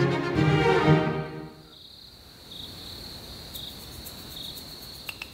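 Insects chirp in lush forest grass, a thin high steady trill with pulsing bursts, faint and alone after a fading musical swell at the start.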